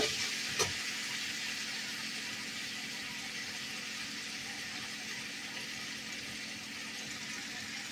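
Spices frying with sugar in a pan produce a quiet, steady sizzle, with a single soft clink of stirring near the start and no speech.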